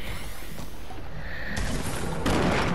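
Gunfire in a video game crackles in bursts, with a sharp volley near the middle and a louder burst toward the end over steady background noise.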